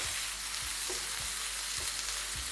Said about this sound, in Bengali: এই স্টেজ থেকে আপনাদের আরও 3 থেকে 4 মিনিট এটাকে ভেজে নিতে হবে, যতক্ষণ না পেঁয়াজটা ঠিক এরকম ব্রাউনিশ হয়ে আসছে।